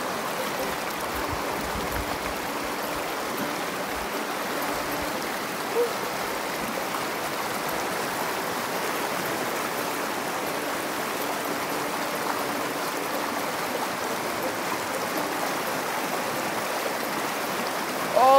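Water rushes steadily in a shallow, rocky stream while someone wades through it. The broad, continuous flow holds a constant level throughout with no distinct footsteps or voices standing out.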